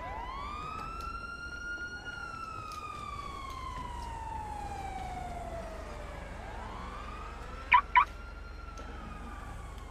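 Police car sirens wail through a chase in the GTA V video game, a steady rising and falling tone sweeping across the whole stretch, with a pair of brief sharp blips near the end and no talking.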